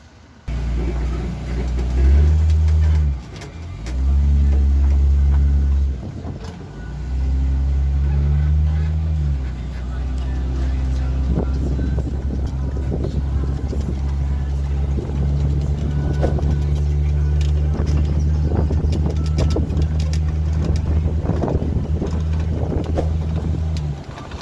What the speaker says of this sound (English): we have to take a little bus, electric bus thing,